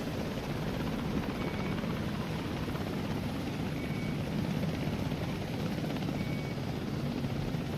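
A helicopter in the video game Wardogs gives a continuous, even rotor-and-engine drone that stays close and unchanging from start to finish.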